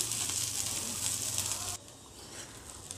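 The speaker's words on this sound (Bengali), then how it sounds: "তো পেঁয়াজ রসুন আর বাদাম খুব ভালোভাবে এটা তেলের ভিতরে ভেজে নিতে হবে।" Onion, garlic and peanuts fry in hot oil with a bright, steady sizzle that cuts off abruptly partway through, leaving only a faint hiss.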